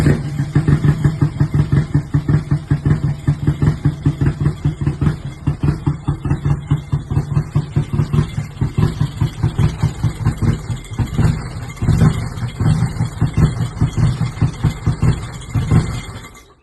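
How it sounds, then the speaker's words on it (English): A Nissan S13 car engine runs roughly with a misfire, its loud, close, lumpy idle pulsing unevenly and stumbling as if about to stall, for around sixteen seconds with no talking. "I got it to run for maybe 5 or 10 seconds and it was just misfiring and wanted to die, and it sounded awful."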